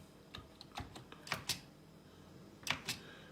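Sharp, irregular keystrokes on a Commodore 64 keyboard while starting a game, clustered in small bursts with short pauses between, close and fairly quiet, with no talking.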